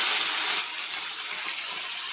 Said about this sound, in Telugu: ఇలా ఎండుమిర్చి కరివేపాకు కూడా వేసేసుకోవాలి.